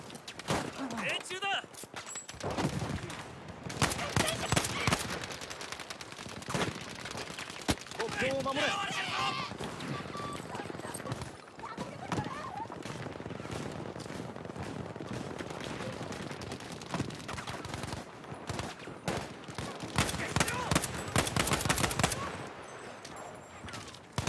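Sustained gunfire in a shooter video game, rapid bursts and volleys running through most of the stretch, loud and dense, with someone talking over the shooting at times.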